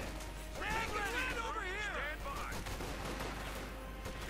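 Gunfire crackles through a Company of Heroes 2 match, with rapid bursts layered over battle noise and a mechanical clatter while a commentator talks over the action.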